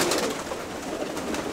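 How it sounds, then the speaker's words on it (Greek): Pigeon cooing at a Greek pigeon loft, a soft, steady murmur of low coos repeating close by with a faint airy background, no voices. "Ένα περιστέρι έπεσε από κάτω"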